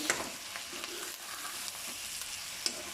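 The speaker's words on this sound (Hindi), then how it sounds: "इनको हम फ्राई करेंगे" Onions fry softly and steadily in a pan for aloo gosht, with occasional scraping and stirring clicks, quiet and close, no talking.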